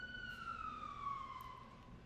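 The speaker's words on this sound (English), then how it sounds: "we're doing little hopscotch sirens here" A distant emergency siren wails in a short, descending sweep, faint and alone with no talking.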